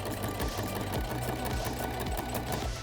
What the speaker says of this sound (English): it's time to sew it on.